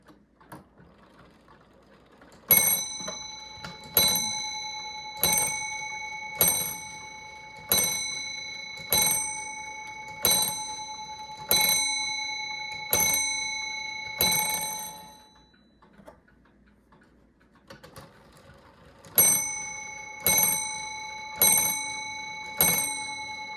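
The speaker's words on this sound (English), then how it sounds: "that one I didn't wind up the chime, so it's got some residual tension" An 1830s Ephraim Downs wooden works clock strikes a series of bright, ringing chime notes, each one decaying slowly, with a pause before a second run of strikes. A soft ticking carries on beneath them.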